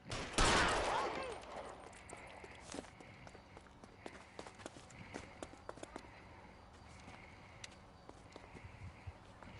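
Gunfire in L.A. Noire: one loud close shot at the start, followed by scattered fainter pops and footstep-like clatter over a quiet ambient bed.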